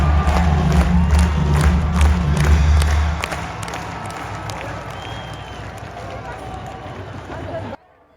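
A large crowd at the Attari-Wagah India-Pakistan border ceremony roars and cheers loudly at first, then settles into a softer sustained hubbub with scattered claps before cutting off.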